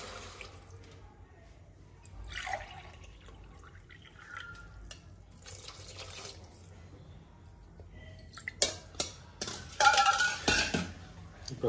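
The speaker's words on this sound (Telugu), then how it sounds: "రెండు గ్లాసులు వాటర్ యాడ్ చేస్తున్నాను" Two glasses of water poured from a glass into rice for bagara rice in a home kitchen, heard as splashing bursts near the end amid clinking of pots and utensils, close and fairly loud.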